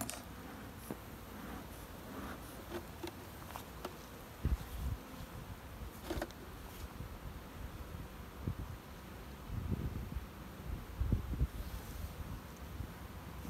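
Honeybees hum faintly around the microphone at an apiary hive in spring amid light wind, with occasional soft knocks and rustles.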